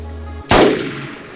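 A single loud, close gunshot from a weapon being tested in DayZ, an abrupt crack followed by a short decaying tail.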